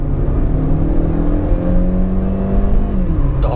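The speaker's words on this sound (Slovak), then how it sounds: "Motor bzučí hrozne." Loud engine buzz inside a Qoros 3 sedan while driving, a steady droning whine with slowly shifting pitch under road and cabin noise, heard close.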